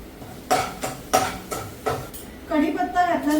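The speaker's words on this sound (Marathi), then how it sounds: "ही पेस्ट आपल्याला व्यवस्थित परतून घ्यायची आहे" Spice paste with curry leaves stirred in a pan while making pithla: several distinct metal spatula scrapes and clinks, then a steady sizzle as the leaves hit the hot oil, close and clear.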